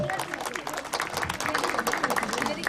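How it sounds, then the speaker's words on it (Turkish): A crowd at a wedding claps steadily for a few seconds, a dense patter of hands with voices mixed in underneath. "Gelin hanıma bir alkış alalım"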